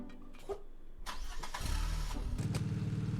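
A car engine starting up in a video game set around a butcher-shop escape, the starter cranking briefly before the motor catches and settles into a steady, loud idle hum with no talk over it.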